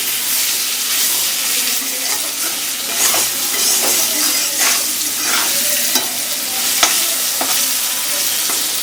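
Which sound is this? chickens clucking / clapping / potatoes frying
potatoes frying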